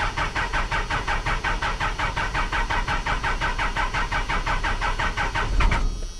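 A scrapyard Cummins diesel cranks over in a fast, even rhythmic chug for several seconds, loud and close, then catches with a brief louder surge at the very end.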